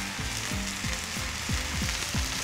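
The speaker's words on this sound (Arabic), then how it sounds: "هسيب الستيك لمدة 4 دقايق على ناحية واحدة وبعدين اقلب." Steak frying in a pan gives a steady close sizzle, with a soft broadband hiss and a crackle running through it. No one speaks.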